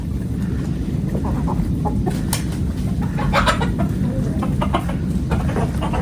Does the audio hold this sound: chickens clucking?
yes